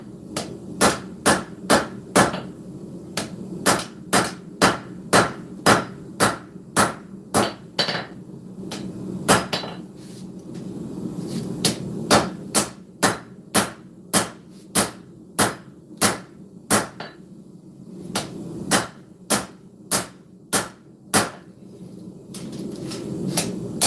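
A hammer pounds a sword blade being forged to a tapered profile, striking in steady, rapid rhythmic bursts of sharp metallic blows, close and loud, with short pauses between the runs of strikes.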